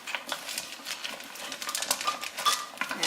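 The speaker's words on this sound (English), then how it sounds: "Next, you'll want to stir all of this." Chocolate melting in a pot for peanut clusters is stirred with a utensil, giving a quick run of light scraping and clinking taps against the pot, close and moderately soft.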